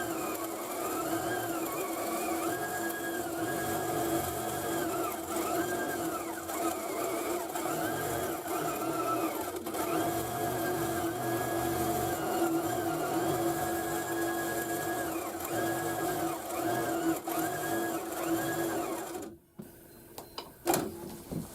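A longarm quilting sewing machine runs steadily for about twenty seconds, a loud close mechanical whir with a rhythmic needle chatter and a fluctuating motor tone, before stopping abruptly near the end.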